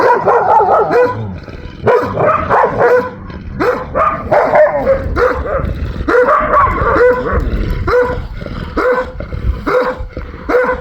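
Several dogs on a farm, including a puppy, bark and yip repeatedly in quick, overlapping bursts, loud and close, with a few whimpering notes mixed in.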